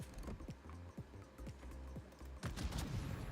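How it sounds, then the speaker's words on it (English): Warship guns firing in the World of Warships game, a series of regular booming shots about every half second, then a heavier louder burst near the end, with no talk over it. "God, I love the accuracy on these guns"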